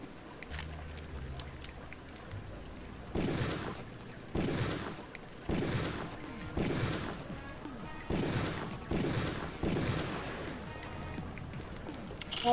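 A sniper rifle in Deus Ex: Revision fires about eight sharp, loud shots at a steady, unhurried pace, each ringing out over a quiet ambient background.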